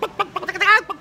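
A voice imitates a chicken, giving a short burst of clucking, squawking calls in quick succession, loud and close.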